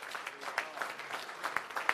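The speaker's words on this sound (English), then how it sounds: "Let's give him a round of applause, everyone." Scattered applause for a World War II veteran at a mayoral senior citizens event, light uneven clapping with a few sharper nearby claps, fairly quiet and brief.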